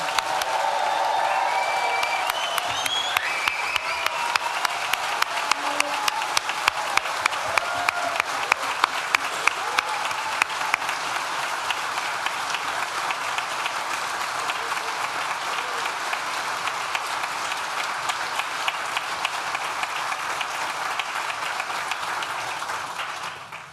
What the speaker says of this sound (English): I think we should have one more big cheer for all the graduates and to all the families today.